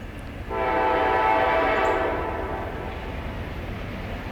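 An Amtrak train sounds a long, loud horn blast as it passes, holding steady for about two seconds and then fading slowly into the outdoor background.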